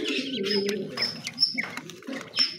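Pet quail calling in a backyard coop, a run of soft low cooing notes overlaid with short high chirps repeating steadily at close range.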